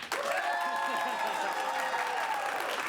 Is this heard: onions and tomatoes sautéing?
no